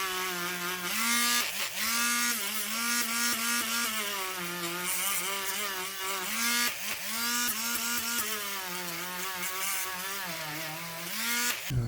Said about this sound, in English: Break out the polisher and compound.